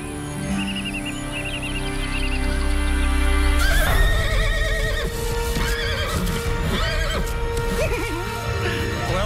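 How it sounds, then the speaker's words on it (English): A horse whinnies loudly with a long, wavering neigh, followed by scattered hoof clip-clops and stamping as it moves nearby; a steady low hum sits underneath and no one speaks. "I thought the plan was to ride the horse."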